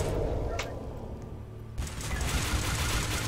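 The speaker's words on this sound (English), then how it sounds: "Hey, stop shooting me." Game gunfire from a Roblox SCP match sounds as a loud, dense, noisy barrage that eases off briefly and then surges again with sharp cracks, heard close and unbroken.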